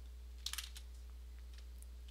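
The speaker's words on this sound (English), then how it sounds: "Okay, so now I'm just going to type img.save, and I'm going to call the file YouTube" Keyboard typing while entering Python code: a short burst of four or five quick, light key clicks near the middle, faint and close, followed by a few softer scattered taps over a low steady hum.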